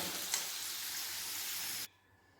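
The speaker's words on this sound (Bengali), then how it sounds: "এদিকে আলু ভাজা হয়ে গেছে ভালোভাবে" Potatoes frying in oil make a close, even sizzle for about two seconds before it abruptly drops away.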